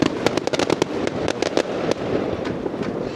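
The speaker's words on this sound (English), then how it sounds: "But you see the fireworks behind me, still going off." Bonfire night fireworks bursting over Merseyside, a rapid series of sharp cracks and pops at moderate distance, clustered densely early then thinning out, with no voices.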